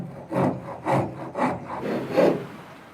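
Wood rubs in a slow back-and-forth rhythm during sharpening, five or six even rasping strokes, close and moderately loud, with no talking.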